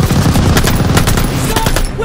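Loud, sustained machine gun fire in the video game Call of Duty Vanguard, rapid rhythmic shots hammering close by in a dense battlefield mix.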